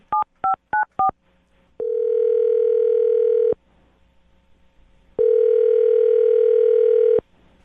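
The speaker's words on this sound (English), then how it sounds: "I'm going to dial her phone number right now and get her on the phone" A telephone number is keyed in as four quick touch-tone beeps, followed by two long, steady ringback tones separated by a pause, heard clearly and up close on a radio call line.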